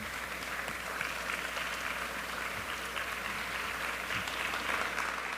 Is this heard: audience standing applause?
yes